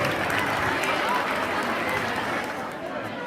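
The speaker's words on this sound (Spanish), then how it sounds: "Un fort aplaudiment per primer CEP." Dense, steady applause from an audience at a school carnival performance by first-year secondary student groups, a continuous wash of many hands clapping at close range, with crowd murmur mixed in throughout.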